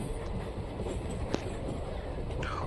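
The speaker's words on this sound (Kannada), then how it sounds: "ನಮ್ಮ ಟ್ರೈನ್ ಹೊರಟಿದೆ ಹೊಸಪೇಟೆ ಜಂಕ್ಷನಿಂದ" A passenger train pulls out of Hospet Junction, bound for Bangalore, with a steady, loud rolling rumble and hiss throughout and a faint metallic tick partway through.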